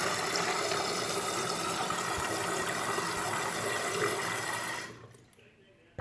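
A toilet tank refills after its fill valve is replaced: a loud, steady rush of water hisses close by for about five seconds, then cuts off abruptly and leaves only quiet trickles.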